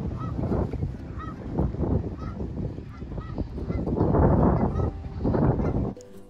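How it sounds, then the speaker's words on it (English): Geese honk repeatedly on a farm, a busy overlapping flock calling in loud, rough bursts throughout, fairly close, before the sound cuts off near the end. "We got our first goose visitors of the year."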